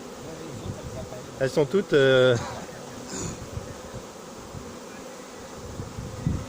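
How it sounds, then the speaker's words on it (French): A honeybee swarm buzzes around a cardboard box as the bees fan to call the others in, a steady low drone with someone speaking briefly over it partway through. "Là, on voit bien les abeilles qui battent le rappel, on voit bien là sur le carton."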